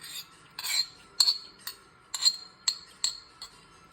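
Glasses clinking repeatedly in a toast over a homemade chicken mole meal, a series of about eight sharp, bright chinks spaced irregularly, fairly close, with no talking.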